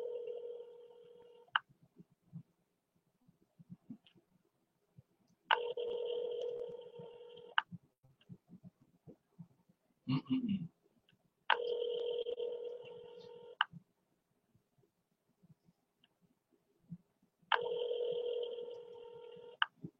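An outgoing telephone call rings back while waiting for an answer, with four even electronic ring tones about two seconds long spaced by silent gaps and a short hum between rings.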